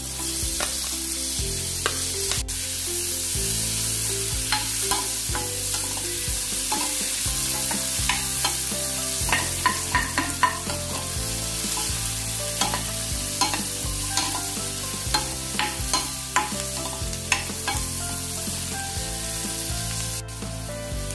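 Onions sizzle steadily in a hot pan with cloves, cinnamon and cardamom for paneer butter masala, while a spoon stirs and scrapes now and then, with a constant background hum and no talking.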